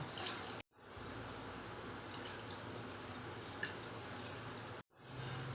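Honey and rose water are poured into a vessel to prepare water for bathing deities, making a quiet, continuous trickling splash interrupted by two brief silences, with no one speaking.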